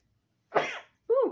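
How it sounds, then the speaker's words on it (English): Two sneezes in quick succession, the first a strong burst and the second a shorter, tonal one after a brief pause, close and fairly loud with silence around them. "Double sneeze?"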